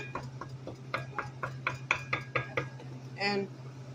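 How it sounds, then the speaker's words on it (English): Meat is bashed and broken up in a pan with noodles, giving a run of about a dozen sharp, evenly spaced clacks and taps over a low hum, followed by a brief rougher scrape. "So, just bash the meat up."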